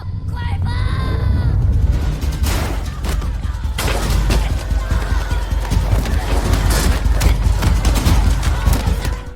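Chaotic movie shootout with police, bursts of rapid gunfire and crashing impacts over several seconds, loud and close, mixed with shouts and yelling.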